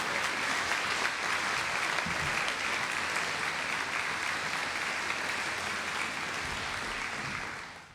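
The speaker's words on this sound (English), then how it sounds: "So let's give them one more round of applause." Steady, full applause from an audience honoring an elementary school children's chorus, many hands clapping evenly for several seconds before fading out at the end.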